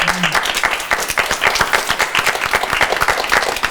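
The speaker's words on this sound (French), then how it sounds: "On peut applaudir les gâteaux." Applause greets birthday cakes at a celebration, a small group clapping briskly and steadily at close range, with distinct individual claps in quick succession throughout.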